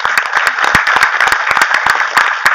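An audience at a Tamil film audio launch event claps in a loud, close burst of many overlapping hand claps, dense and continuous throughout.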